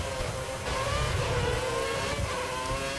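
Open-wheel F1 race car engine from the F1 2014 racing game, revving hard and continuously at close range, with a steady high-pitched whine rising and falling slightly over a few seconds.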